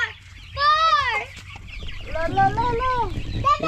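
Broiler chickens released onto a free-range area cluck and squawk in several rising and falling calls, fairly close, with a low background rumble and brief voices.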